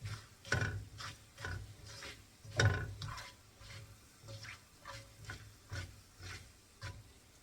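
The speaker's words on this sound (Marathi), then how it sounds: "चांगलं खमंग होईपर्यंत फ्राय करायचं आहे." Whole coriander seeds roast in a pan, heard as soft rhythmic scraping strokes about twice a second over a faint, quiet crackle, with no one talking.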